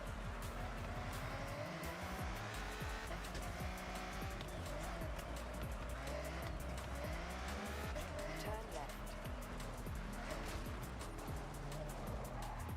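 A Dodge Viper driven over rough terrain in Forza: continuous engine drone with shifting revs and tire squeal and skidding throughout, with a voice talking over it.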